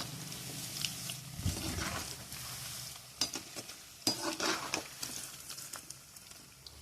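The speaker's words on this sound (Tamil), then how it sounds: "எண்ணெயில் வெந்துட்டுருக்கு." Flattened dough balls frying in oil: a fairly quiet, bubbling sizzle with irregular crackles and occasional knocks of a utensil, no voices.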